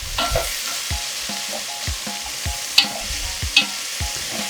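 Vegetables and peppers fry in a pan for a coconut black bean stew, a steady sizzle broken by repeated rhythmic stirring scrapes and a couple of sharp utensil clinks against the pan, close and clear with no talking.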